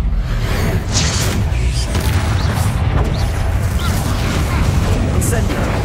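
Explosive spell blasts in the Hogwarts Legacy video game burst repeatedly through dense, continuous combat noise, with booming impacts and swooshes layered under shouted voices.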